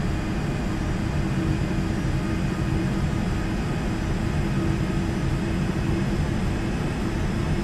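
A Learjet 45 flies in the FSX flight simulator video game, giving a steady, unbroken jet engine roar heard from inside the cockpit, even and constant in level throughout with no talking.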